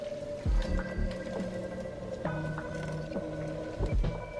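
A quart of tap water is poured into a substrate mix for mushroom growing, making a gurgling, squishing sound with repeated glugs and wet pops, close and fairly quiet, with no talking.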